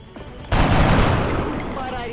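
Gunfire in the strategy video game XCOM bursts in at about half a second and fills the rest of the clip as a loud, dense crackling volley with no talk.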